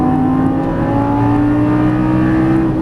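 A Lamborghini Gallardo Superleggera LP570-4 holds a loud, steady engine drone under throttle on a track, with a constant, near and strong tone and no talk.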